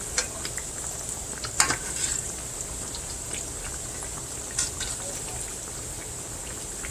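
Salmon patties sizzling quietly in a frying pan as they are flipped, a steady soft crackle with a brief louder clatter early on and small pops scattered throughout.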